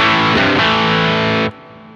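A loud, heavily distorted electric guitar chord through a distortion pedal, with an optical compressor pedal ahead of it, rings out thick and saturated for about a second and a half, then cuts off abruptly into a low hum.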